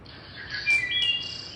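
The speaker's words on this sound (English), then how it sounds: "Here's our wood thrush again." A wood thrush sings a short fluting phrase with clear, high whistled notes over a faint background of insect or cricket hum.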